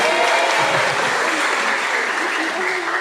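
A youth revival service congregation claps in praise, a dense, loud, steady burst of applause filling the hall.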